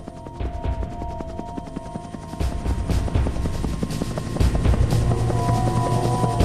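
Rescue helicopters flying over a flood disaster zone, a steady loud rotor chop and engine drone with rhythmic thudding pulses throughout, no voices.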